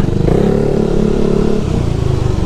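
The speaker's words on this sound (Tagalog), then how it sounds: "Yan, ito yung tunog. Tunog siya, tunog chicken pipe na sosyal." A motorcycle fitted with a chicken pipe exhaust revs hard and close, a loud raspy blat that rises then settles back over a couple of seconds.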